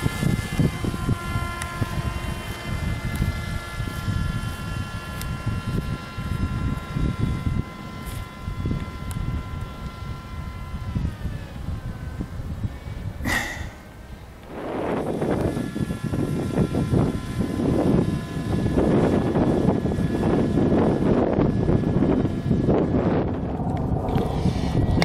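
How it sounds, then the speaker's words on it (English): Strong wind roars and buffets the microphone around a Skywalker 2013 RC plane flying in very high winds, a loud continuous rush with gusty surges and a brief lull midway. "You can hear the wind blowing."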